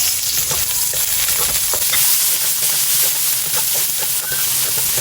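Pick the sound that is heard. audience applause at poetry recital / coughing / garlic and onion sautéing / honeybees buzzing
garlic and onion sautéing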